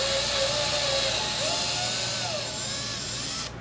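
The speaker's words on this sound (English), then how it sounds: "installing just a regular 3/4 inch screw in the middle of that plug" A regular 3/4 inch screw is driven into the middle of a wooden plug with a power driver, a steady loud whirring motor with a wavering pitch that cuts off abruptly at the end.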